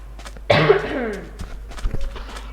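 A man gives a single close, harsh cough followed by quieter rustling sounds and soft footsteps in a quiet room.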